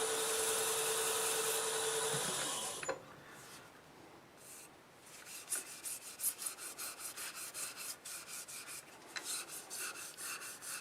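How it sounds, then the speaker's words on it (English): Light hand rubbing on a lacquered wood turning to dull shiny spots, a soft, close, dry scuffing in short uneven strokes after a brief louder broadband rush at the start. "I'm just looking for any areas that might be shiny, and I'm rubbing them down just lightly."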